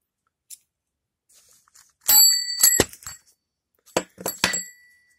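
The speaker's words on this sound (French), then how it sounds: "C'est une sonnette." A bicycle bell rings close and clear in two bursts, several bright metallic dings in quick succession, with near-silence between them.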